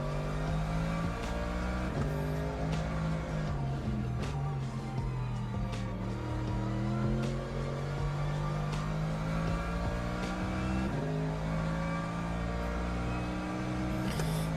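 Race car lapping a circuit in Le Mans Ultimate, its engine loud and close with rising and falling pitch sweeps through gear changes and braking, occasional tire noise, continuous throughout.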